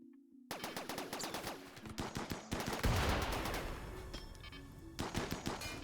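Rapid automatic gunfire in the video game Rimworld as colonists attack Mechanoid turrets: dense bursts of sharp shots, some in quick repeated volleys, continuing over several seconds with no voices.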